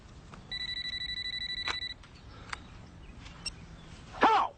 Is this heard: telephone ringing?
yes